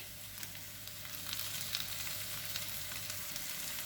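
Onions sautéing in a pan for a pide kebab dish give off a steady, close sizzle and crackle of frying, with faint stirring scrapes and no talking.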